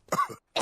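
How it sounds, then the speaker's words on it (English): Two short, close coughs come from an animated grown-up character who has caught a child's cough, separated by a brief pause. "Oh dear, all the grown-ups have caught Pedro's cough."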